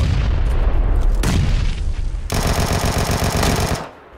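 Gunfire in PLAYERUNKNOWN'S BATTLEGROUNDS: loud booming shots, then a rapid burst of automatic fire lasting over a second before cutting out, with no talking.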